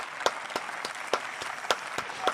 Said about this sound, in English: I'm trying to hit him with applause here